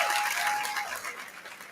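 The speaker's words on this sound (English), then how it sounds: "Please give a round of applause for Ayanna Khan." A fundraising gala crowd applauds a chamber leader, a dense roar of clapping that starts full and gradually thins and fades over under two seconds.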